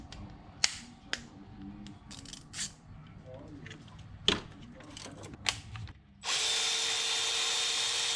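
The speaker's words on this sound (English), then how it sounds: "Next, we're going to remove this bolt down here for a dipstick tube." A power drill works on the dipstick tube bolt of a BMW oil pan, sounding as short, sharp bursts and clicks before switching to a steady, loud whirring run near the end, with some talking.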